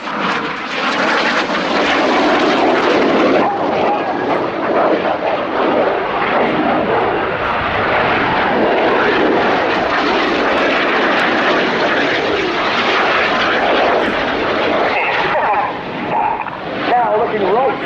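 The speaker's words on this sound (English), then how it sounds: "So now in honour of an incredible man, these are the Winkle Rolls." Red Arrows jets flying a Winkle Roll display at an air show, loud sustained engine roar that swells and holds throughout, with a commentator talking over it.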